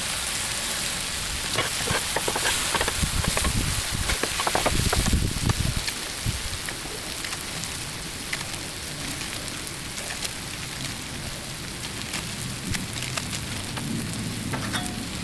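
Gluten-free buns toasting on a Blackstone griddle give a steady, crackling sizzle like light rain, with a few louder scraping bursts early on, close and continuous, no talking.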